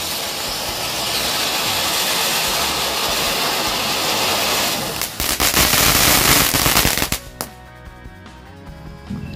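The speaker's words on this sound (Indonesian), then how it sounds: "Untuk yang pertama kita nyalain mercon Konik 3-in-1" A long fizzing hiss builds from a lit Konik 3-in-1 firecracker, then a loud burst of rapid cracks and pops before dropping away to quiet.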